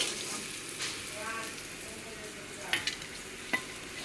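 Washed rice fries in a pan with a steady close sizzle, and a spoon scrapes and clinks a few times as it is stirred. The sound is moderately quiet, with no clear speech.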